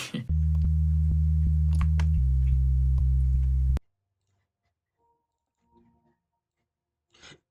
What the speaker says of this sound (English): I'm gonna go for a sine wave